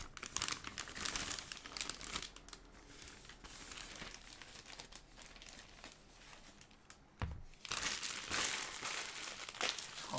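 A big blue bag is handled and rummaged through, producing faint, continuous plastic crinkling and rustling with a few louder crumpling bursts.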